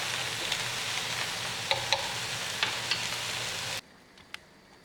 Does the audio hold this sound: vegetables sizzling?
yes